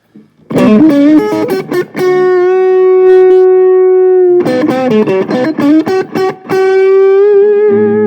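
Electric guitar played through an amp, using a vintage Boss OS-2 overdrive pedal as a boost, giving loud distorted chords and long sustained single notes in two phrases, with no talking.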